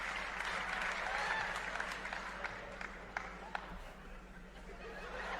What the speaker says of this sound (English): You got the whole crowd like cheering against you.